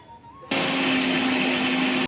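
A mixer grinder grinding pani puri water switches on abruptly and runs at a loud, steady whir with a high whine, grinding continuously until it cuts off.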